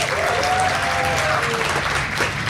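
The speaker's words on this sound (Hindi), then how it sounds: "बस हुआ तालियां दोनों के लिए यार एक बार" Audience applause for two performers at a comedy talent show, a dense, steady wash of clapping that fills the whole stretch, with a voice or cheer rising briefly through it.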